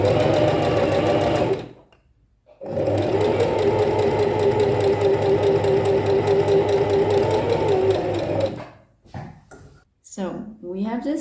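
A sewing machine stitches the top seam on a cone bra in a loud, steady mechanical whir, stopping briefly, running again for several seconds, then falling silent as a voice talks at the end.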